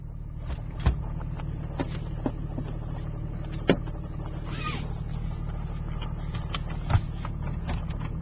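A 2006 Dodge diesel pickup with a Mopar exhaust brake drives along, its steady low engine drone heard from inside the cab, with a few sharp knocks and clicks over the rumble.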